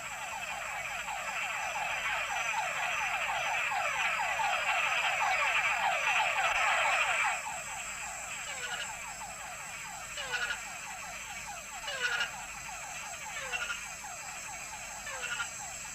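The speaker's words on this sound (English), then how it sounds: "They used recordings of the mud puddle frog." A recorded chorus of mud puddle frogs plays steadily, dense overlapping croaks thinning after the first half into sparser calls with a few louder individual croaks standing out, continuous and without voices.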